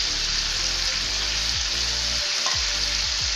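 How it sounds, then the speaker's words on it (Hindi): Finely chopped green chilies sizzle loudly in plenty of hot oil in a karahi for charsi karahi, a dense, continuous close frying hiss with occasional stirring clanks and no voices. "अब हम इसमें 4 हरी मिर्च बारीक कटी हुई"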